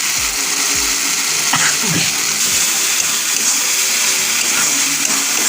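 A little water goes into chicken masala in a pan during cooking, giving a steady broadband pour and sizzle that runs throughout at moderate loudness, with a few low knocks early on.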